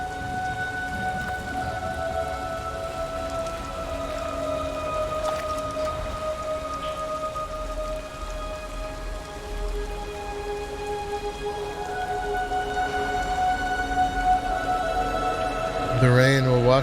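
Steady rain falls in the video game Detroit: Become Human, a dense, even patter that runs throughout alongside sustained musical tones and a low rumble, with a brief brighter burst near the end.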